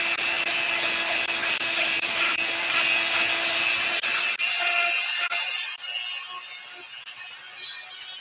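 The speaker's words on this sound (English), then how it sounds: "It's a tack life. My rotary tool." A Tacklife rotary tool grinds on a piece with a high, steady whine for about four seconds, then winds down unevenly into scattered scraping and fading buzz.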